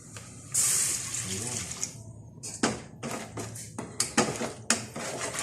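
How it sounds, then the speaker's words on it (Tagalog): Water splashes and pours into a cooking pan while making sizzling pork with green peas, with clattering cookware, followed by short metallic knocks and scraping while a voice speaks briefly. "lalagyan natin ng tubig"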